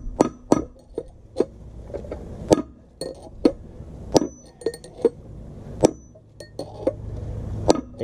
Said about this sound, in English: You gotta kind of hit this thing because it's pressed in there.